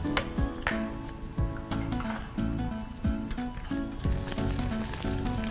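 Cashew pieces and almond pieces sizzle and crackle as they roast in a hot pan for a sweet sheera, a steady frying hiss with light clinks running throughout.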